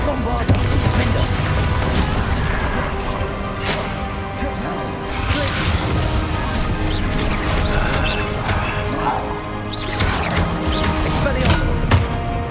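Bombarda blast spells go off during a Hogwarts Legacy duel: repeated heavy booms and crashes with whooshes, all dense and loud over a continuous bed of game music and combat effects.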